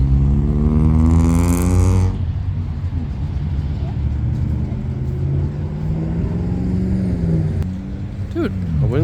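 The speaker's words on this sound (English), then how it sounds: "Seems like the F12 is leaving." A Ferrari F12 supercar leaving a Supercar Saturday car meet revs loudly and close for a couple of seconds, then settles into a lower, droning engine note that swells again briefly near the end.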